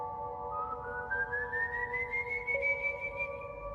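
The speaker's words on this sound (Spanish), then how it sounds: "Un silbido que no parecía humano." A thin, sustained whistle slowly gliding upward in pitch, steady and eerie, over a low hum with no talking.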